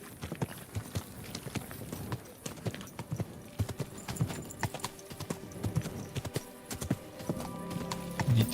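Horse hooves clip-clop in Kingdom Come Deliverance II, sharp uneven hoof strikes at a walking-to-trotting pace close by, with brief snorts and a whinny-like sound near the end.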